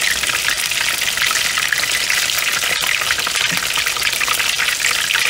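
Cod fillets frying on a Blackstone griddle, a steady, close sizzle and crackle of hot oil that holds at an even level throughout.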